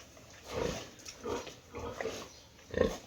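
A pregnant sow on a farm gives low, rhythmic grunts, four spaced snorts at moderate distance, fairly faint, with no talk.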